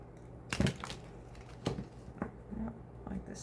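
Brief riffling and soft slapping of cards being shuffled, a couple of short bursts in a quiet room.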